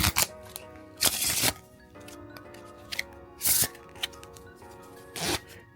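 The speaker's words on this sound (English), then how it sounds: "Now you release your index finger and the cards will cascade again." Playing cards cascading from the hands during a magician's shuffle, heard as several sharp, fluttering bursts of riffling cards at irregular intervals, close and clear, with quiet gaps between.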